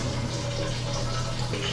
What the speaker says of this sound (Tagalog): Ang ingay yung yung gripo.